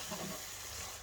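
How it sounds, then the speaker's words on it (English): Tomato sauce bubbling up to a boil in a pan for tuna pasta: a faint, steady sizzling hiss with soft crackle, continuous and quiet throughout. "Let that come to the boil, sizzle."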